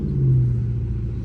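A doorless Dodge Charger RT out on a highway, with a steady, loud low engine rumble and a droning hum that swells slightly, heard close from inside the car.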